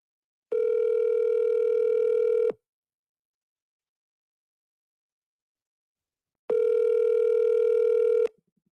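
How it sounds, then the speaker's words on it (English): A telephone line gives two loud, steady electronic tones, each about two seconds long and separated by several seconds of silence, like a dial tone during a phone call. No speech is heard. "Let's make a phone call."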